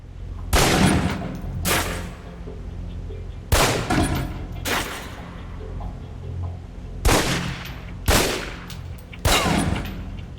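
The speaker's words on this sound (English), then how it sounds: "Equip the pistol, then aim down range and take some shots at the target" Pistol shots fired at a target on a range in the Alpha Protocol video game, arriving as loud sharp cracks in pairs and singles with reverberant tails, no talk.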